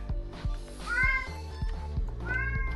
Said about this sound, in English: You might hear a cat every once in a while